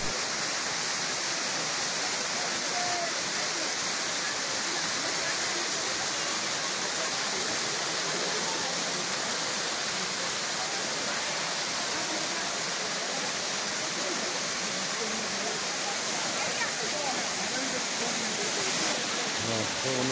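Bamni Falls waterfall at Ajodhya Pahar in Purulia gives a steady, broadband rushing roar that fills the whole stretch close by and never lets up.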